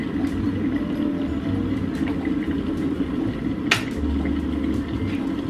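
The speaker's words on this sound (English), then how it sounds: "I like to watch the kettle boil." Water boils in a kettle, giving a steady, continuous rumbling and bubbling hiss that holds at an even level throughout, with no talk.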